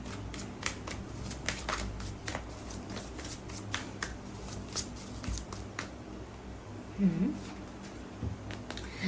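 Tarot cards are drawn and handled from a deck, producing soft papery shuffles and flicks scattered through the clip beneath a speaking voice.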